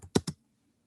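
Three quick clicks of keys on a computer keyboard, close and soft, as a command is typed, followed by silence.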